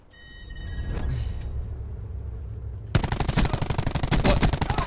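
Rapid automatic gunfire from Call of Duty Black Ops 4 Blackout bursts in suddenly after a low rumbling lead-in, loud and close, a fast steady stream of shots continuing to the end.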